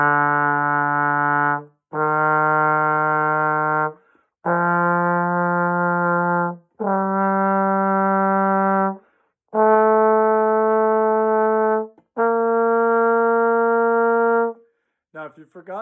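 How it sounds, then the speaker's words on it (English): A trombone plays a slow ascending scale of seven sustained, evenly spaced notes with short gaps between them, loud and close, with a brief softer fragment at the end and no talking. "Now, on trombone, it sounds like this."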